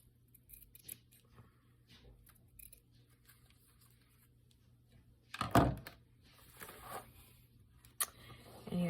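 A small piece for a journal is trimmed with scissors: one quick, close snip of the blades stands out from quiet room tone, followed by softer paper rustles and a faint second cut.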